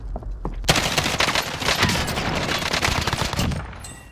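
Rapid bursts of gunfire in Call of Duty: Modern Warfare, loud and dense automatic shots crackling continuously after a short lull, with no speech.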